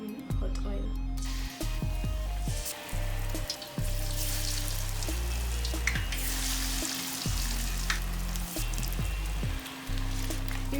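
Bhajia drop into hot oil and fry with a loud, continuous hiss and crackle, broken by short dips and bumps while the pieces are turned and stirred.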